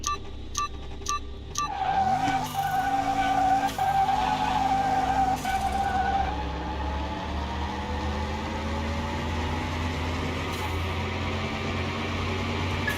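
A supercharged Chevrolet Camaro ZL1 on slicks races in Car Mechanic Simulator 2021, its engine rising through gears after a few beeping tones, then settling into a loud, steady drone.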